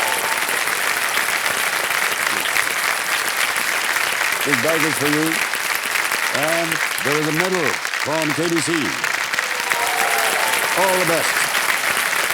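Studio audience on KBC applauding a departing contestant, sustained loud clapping throughout while the host speaks over it.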